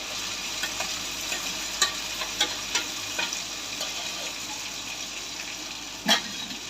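Spice paste being stirred and fried in hot oil in a home kitchen pan, a steady sizzle under repeated scraping strokes of a spoon, with one louder clatter near the end.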